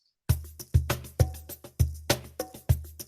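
A pop-style music section plays against a click track, with sharp regular percussive hits and decaying struck tones in a steady beat, close and clear, after a brief silent start and with no talking.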